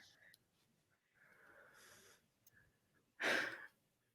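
Someone snores in a shared hotel-style room: one loud, harsh snort-like snore rises abruptly near the end, preceded by quieter raspy breathing.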